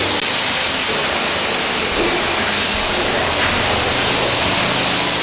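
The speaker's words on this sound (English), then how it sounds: "So I'll continue to rinse this down here, and I'm almost done with this front part." A water hose sprays hard inside a manure tanker during rinsing, a loud, dense, continuous rushing wash with no pauses.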